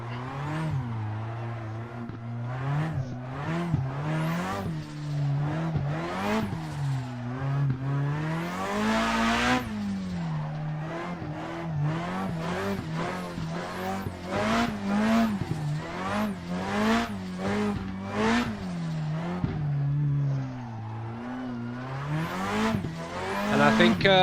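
Simulated car drifting with handbrake pulls in Assetto Corsa played in VR: a steady engine note rises and falls with repeated revving, with tyre squeal and skidding throughout, loud and continuous.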